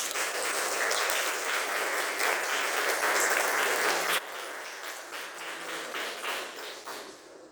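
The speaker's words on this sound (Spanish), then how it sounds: "Y un gran aplauso para la doctora Wheeler." A fairly large audience applauds Dr. Wheeler at a book presentation on South American camelids; sustained clapping that drops abruptly in level partway, then continues more softly to the end.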